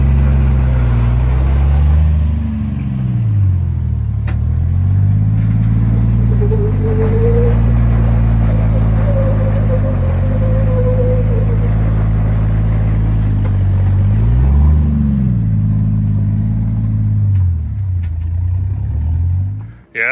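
An off-road vehicle's engine grinds loudly and steadily up a hard, rated-9 trail with a smelling, hot clutch, its pitch rising and falling through several revs over about twenty seconds before cutting off abruptly, no voices heard.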